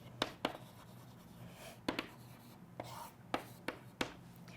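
Pen or marker strokes drawing the chemical structure of histamine: several sharp, quick scratching bursts in small clusters, fairly close and clear against a quiet room.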